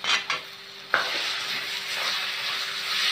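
Chopped onion sizzles and fries steadily in a pan, with a few quick scrapes of a stirring utensil at the start, close and fairly loud, with no talking.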